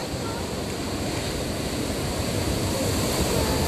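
Beach surf washes in as a continuous broadband roar, loud and steady throughout, with wind buffeting the microphone and no clear voices.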